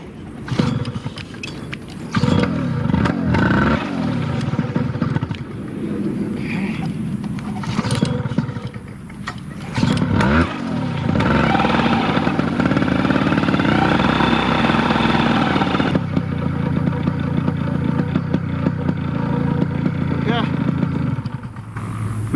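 A paramotor engine sputters as it is cranked after an engine-out landing, then catches and runs with a steady buzzing drone that carries on loud and close, while someone talks over parts of it.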